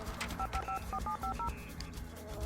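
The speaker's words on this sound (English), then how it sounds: "This time I call Rowan just to talk on the phone with him" Touch-tone dialing beeps from a phone in The Sims, a quick run of about ten evenly spaced tones over faint background game music.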